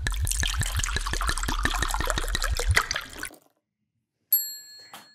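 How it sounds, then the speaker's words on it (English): A thick blended green smoothie pours out in a rapid rhythmic glugging stream for about three seconds, then stops; after a pause a bright ding rings out. "Let's pour it out."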